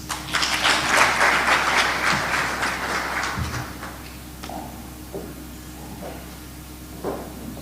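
Applause from an investment conference audience greeting a speaker coming on stage, a burst of many hands clapping that is strongest at the start, then thins out into scattered claps and room noise.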